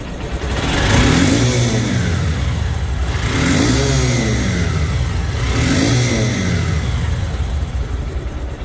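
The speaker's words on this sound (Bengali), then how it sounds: "গাড়িটির সাউন্ড শুনলে বুঝতে পারবেন যে গাড়িটির ইঞ্জিন কোয়ালিটি কেমন আছে" A second-hand 2021 Honda Shine SP 125 motorcycle engine revs close by. It rises and falls in three distinct throttle blips over a steady idle, loud and alone without speech.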